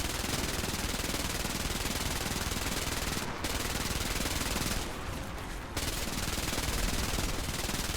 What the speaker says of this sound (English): we've got a couple of people coming in to try and strafe him on the airfield